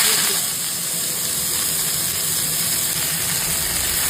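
Banana flower frying in hot oil while being stirred, a dense, loud, continuous hiss and sizzle that stays steady throughout, close by.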